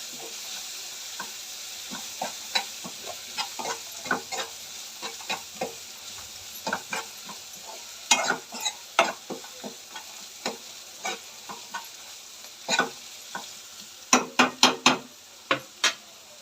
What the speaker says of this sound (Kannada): ಒಣ ಮೆಣಸಿನ್ಕಾಯಿ ಸ್ವಲ್ಪ ಇದನ್ನು ಸ್ವಲ್ಪ ಆಯಿಲಲ್ಲಿ ಚೆನ್ನಾಗಿ ಬೇಯಲಿಕ್ಕೆ ಬಿಡಬೇಕು